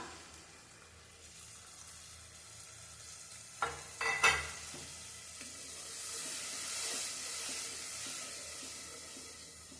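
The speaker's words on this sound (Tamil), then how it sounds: "இப்போ ஒரு லெமன் சைஸு புளியை கரைச்சி வச்சிருக்கேன், அதையும் சேர்த்துக்கலாம்." Tamarind water is poured into a pan of simmering curry and stirred, giving a few quick splashy bursts over a low frying sizzle that then settles into a steady bubbling hiss. The sounds are close, with no voices.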